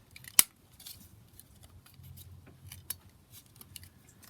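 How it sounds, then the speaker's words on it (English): Corners of a sheet of coffee-dyed paper are trimmed round, with a couple of sharp, quiet snips standing out over faint desk rustling. "So I'm just going to round the corners."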